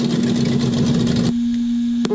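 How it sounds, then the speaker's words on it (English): Simulated Mustang V8 engine sound from a GT Power RC sound system with 58 preloaded engine sounds: a loud, steady electronic rumble that cuts off abruptly partway, followed by a quiet hum and a brief click. "Sounds like a Mustang or something"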